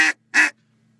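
Two loud, raspy quacks blown on a duck call by a caller, imitating a deep-voiced big boss hen mallard, each short and clipped, then silence.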